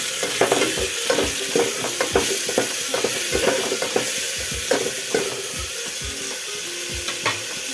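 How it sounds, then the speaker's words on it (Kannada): Two chopped tomatoes frying in a pan for dhal, a steady close sizzle with repeated scraping and stirring strokes of a spoon at irregular intervals. "ಹೆಚ್ಚಿಟ್ಕೊಂಡಿರೋ 2 ಟೊಮೊಟೊ ಹಾಕ್ತಾಯಿದ್ದೀನಿ. ಟೊಮೊಟೊ ಸ್ವಲ್ಪ ಮೆತ್ತಗಾಗೋ ತನಕ ಫ್ರೈ ಮಾಡ್ಕೊಳ್ಳೋಣ."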